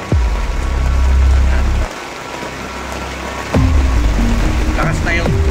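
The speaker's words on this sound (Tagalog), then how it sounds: "ulan na naman" Rain falling at a riverside campsite, a loud close hiss of drops drumming on a surface that drops away for a moment and then returns at full strength, with brief faint voices near the end.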